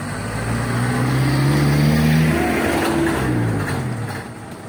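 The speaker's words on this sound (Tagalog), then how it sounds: "Op, sasakyan." A car passes nearby near a coconut tree trimming job, its engine note rising then falling as it goes by, loud over a steady outdoor background.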